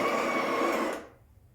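Breville Barista Express BES870 built-in grinder grinding coffee at grind size 4, a steady buzzing whir lasting about a second before cutting off abruptly, close and alone.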